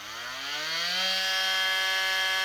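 An oscillating multi-tool motor whirs up and settles into a steady, buzzing hum at a fairly low, even speed, close and continuous.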